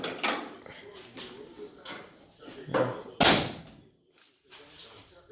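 The door of a 1968 Camaro under rust restoration, fitted without its rubber seal, swings and latches shut with a sharp metallic clunk midway, among softer handling knocks and someone talking.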